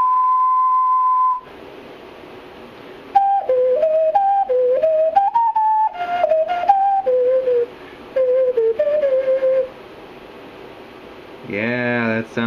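A homemade 8-hole transverse ocarina sounds a long, clear test tone, then plays a short stepwise melody of pure whistle-like notes with brief pauses, fairly close and alone until a voice speaks at the end.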